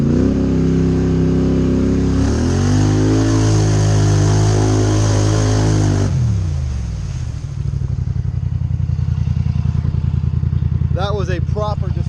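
A Can-Am 850 Highlifter ATV on 34-inch tires revs hard, a loud rising and falling engine roar that drops, then settles into a rough, pulsing idle, with brief voices near the end.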